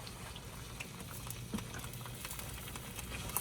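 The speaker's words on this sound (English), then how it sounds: "when you fry it like this" Onion and tomato sizzle and crackle in a hot pan, a low steady frying hiss with small pops, fairly quiet and without voices.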